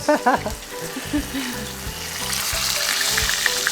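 Chicken for a chicken roulade sizzles in a hot pan, a steady frying hiss that builds after a few soft clinks and brief faint voices at the start.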